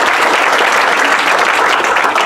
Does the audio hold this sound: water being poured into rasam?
no